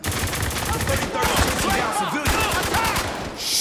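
Rapid bursts of automatic gunfire crackle in a Spec Ops: The Line firefight, shots overlapping in a dense, loud volley while shouted voices cut through the chaos.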